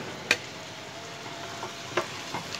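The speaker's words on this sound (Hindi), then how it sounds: "अब हम इसके साथ ही चिकन डाल के भून लेंगे" About 250 grams of chicken sizzles and fries in a pan for arvi gosht, with steady low frying hiss and a few sharp clinks of stirring against the pan.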